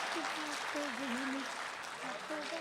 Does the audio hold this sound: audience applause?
yes